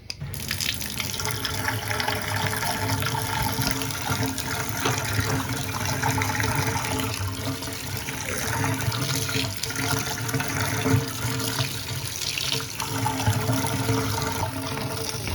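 Water gurgling and rushing through a clogged apartment drain, a continuous moderately quiet wash with irregular bubbling, no voices.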